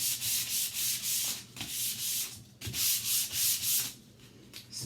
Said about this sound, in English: So just simply scuffing chalk paint that is black.